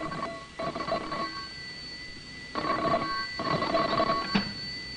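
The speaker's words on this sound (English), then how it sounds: "The next afternoon, the telephone rang in John Davis's office." Office telephone in a 1951–1952 radio drama rings in two bell bursts separated by a pause, loud and close over faint background hiss.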